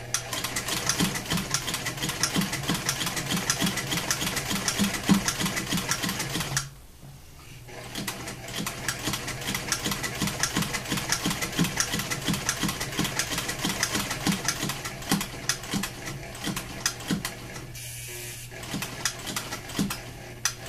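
A sewing machine stitches a gimp buttonhole in rapid, steady mechanical bursts, pausing briefly before resuming its fast rhythmic clatter.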